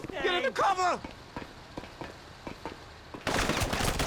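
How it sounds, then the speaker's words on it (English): Gunfire rings out in Grand Theft Auto Online: sharp, spaced shots crack one after another at mid distance, with a voice shouting briefly at the start and a loud burst of noise at the end. "Oh, I'm getting shot in the back."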